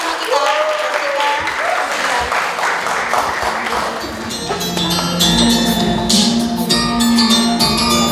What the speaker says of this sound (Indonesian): Mari kita sambut dengan tepuk tangan yang meriah pembicara pertama kita.